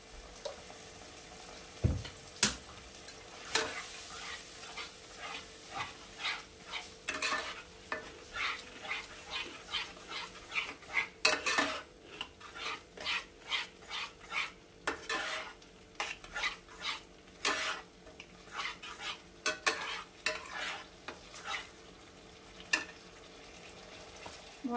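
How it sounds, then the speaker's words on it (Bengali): Spice paste cooked in a pan with a little water over high flame, for a no-onion, no-garlic mushroom dish, heard as a soft sizzle under a long run of rhythmic utensil scrapes and clinks against the pan. "মশলাটা কষানোর জন্য দিয়ে দিলাম জল"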